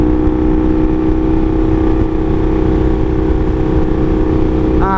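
A steady, loud engine drone with strong low harmonics, holding a constant idle-like rumble throughout, from a Honda Magna VF750C motorcycle with an aftermarket 4-into-1 straight-pipe exhaust.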